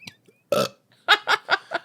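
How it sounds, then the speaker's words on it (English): Several loud burps in a quick series, one long belch followed by four shorter, evenly spaced ones, close and clear with no talking over them. "Or should I burp? Because Tupperware burps."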